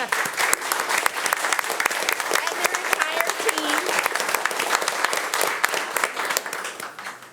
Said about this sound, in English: So again, a round of applause for these two women.